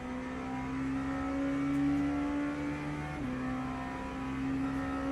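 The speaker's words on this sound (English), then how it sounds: "What am I driving? This is an LMP2 car." An LMP2 prototype race car in Le Mans Ultimate drones at steady revs, its engine note holding a sustained whine that dips briefly with a gear change before settling again, moderately loud and alone.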